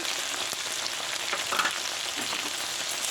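Chicken sizzling and frying steadily in a hot pan for fried rice, a dense continuous crackle close by with a few louder spits midway, no talking.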